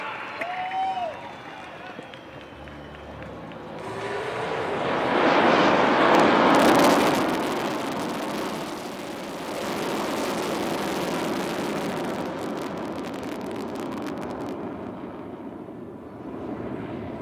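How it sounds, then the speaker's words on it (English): A Su-30 MKI fighter jet at an Indian Air Force anniversary air show in Chennai flies past with a swelling jet roar. It rises to a loud peak and then stays as a sustained rumble, with crowd noise and a commentator's voice. "ஸ்லோவா பொறுமையா அழகா மெதுவா உங்கள் முன்னால் Su-30 MKI"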